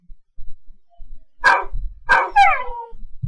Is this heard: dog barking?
yes